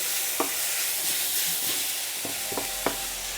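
Onions frying in a hot pan and being stirred, with a steady sizzle throughout and a few sharp scrapes and knocks of the utensil against the pan at irregular moments.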